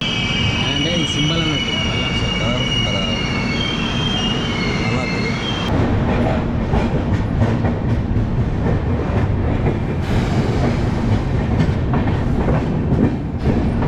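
Duronto Express 12286 running between Delhi and Secunderabad, heard from inside the carriage: a steady loud rumble of wheels on rails with a high squeal early on and clattering joints, with no pauses throughout.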